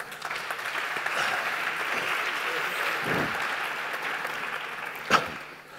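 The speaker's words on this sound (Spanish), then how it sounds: "Un aplauso." Modest applause from an audience at a round-table panel on music promotion, fairly quiet and scattered, with a louder clap or knock near the end and some voices mixed in.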